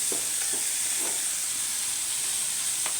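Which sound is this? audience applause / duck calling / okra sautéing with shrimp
okra sautéing with shrimp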